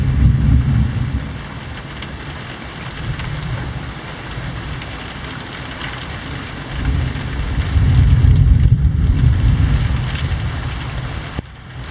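Heavy rain pours steadily during a thunderstorm at Morro Negrito, with a dense constant hiss of drops and deep low rumbling that swells louder toward the end, with no voices present.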